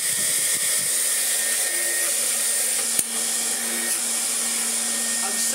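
A refurbished vintage Siemens Super vacuum cleaner motor runs with a steady close roar and whine, a single sharp knock partway through, and a voice speaking faintly beneath it.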